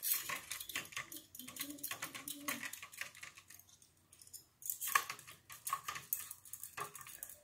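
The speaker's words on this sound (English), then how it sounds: "And now we'll mix these until they're almost completely dissolved." Spoons stir and clink against cups while salt and sugar dissolve in warm water, a busy, close run of rapid metallic taps and scrapes with a brief pause midway.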